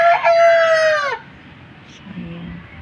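A white rooster crows loudly nearby, one long harsh call lasting about a second, followed by quieter background noise and a faint voice.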